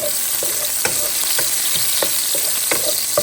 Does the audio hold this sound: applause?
no